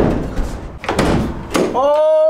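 A van's back door is swung shut with a few heavy thuds and a solid slam, followed by a short high tone.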